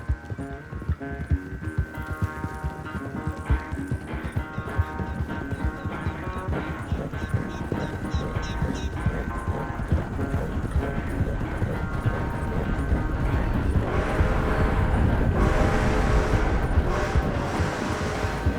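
Steady horse hooves clip-clop at a trotting rhythm over a musical background in the video game Red Dead Redemption, growing louder and busier toward the end.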